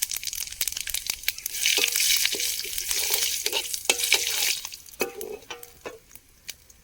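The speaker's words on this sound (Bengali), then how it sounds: "তেল ভালোভাবে গরম হয়ে গেছে, দিয়ে দিলাম একটু তেজপাতা আর একটু পাঁচ ফোড়ন।" Bay leaves and panch phoron five-spice hit hot oil with a bright, crackling sizzle that swells after a brief quiet start, spits and pops near and loud, then thins into scattered crackles.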